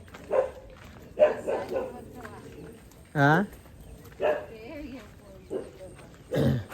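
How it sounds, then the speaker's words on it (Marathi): A dog barks several times in short, scattered bursts at a moderate distance while people talk nearby. "कुत्रा पण लागला भुकायला"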